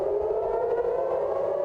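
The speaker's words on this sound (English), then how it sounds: "air raid sirens rang out across Tel Aviv, a familiar sound" Civil defense air raid sirens wail across Tel Aviv during a missile strike, a steady, loud, droning tone with no speech.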